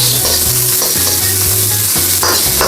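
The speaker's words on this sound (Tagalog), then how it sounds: "lagyan na po natin ang ating sibuyas. Yan po. Yan. Satay lang po natin siya ng mga 15 seconds" Onions sauté in hot cooking oil in a pan, a loud, close, continuous sizzle broken by regular scraping stirs, with no voices.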